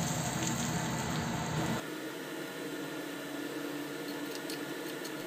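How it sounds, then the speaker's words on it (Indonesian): Hot frying oil poured over ground spice paste crackles and hisses, a loud burst of sizzling that drops to a quieter, steady fizz after a couple of seconds. "setelah panas minyak gorengnya kita siramkan di atas bumbu yang sudah kita haluskan tadi seperti ini"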